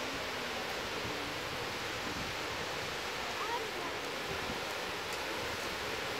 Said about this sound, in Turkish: Şelaleyi de görün.